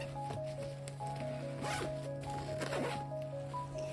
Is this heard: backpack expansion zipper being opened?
yes